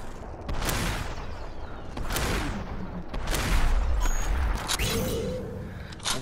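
Shotgun blasts in SuperHOT VR ring out as several sharp, spaced bursts about a second or two apart, fairly quiet overall with a soft background between shots.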